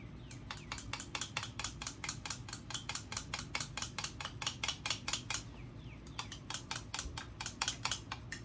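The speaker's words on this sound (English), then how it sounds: "We're gonna stir that in." Repeated quick scraping clicks of a knife stirring liquid plastic mix in a container while making a green pumpkin 7-inch magnum soft-plastic worm lure, a steady rhythmic series close up with a brief pause midway.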